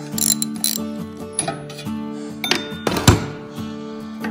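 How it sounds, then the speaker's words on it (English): A hand ratchet with a 13/16 socket works a spark plug into a Honda engine, giving quick bursts of clicking pawl ratchets and metallic clinks, close and loud with short pauses between strokes, no talking. "let's go ahead and put in the spark plug. 13 16 socket fits that."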